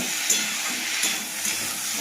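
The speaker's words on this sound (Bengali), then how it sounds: "এবার ভালোভাবে ভেজে নেব।" Cauliflower, potato and tomato fry in a pan with a steady, bright, hissing sizzle that stays loud and even throughout, with a few faint stirring scrapes underneath.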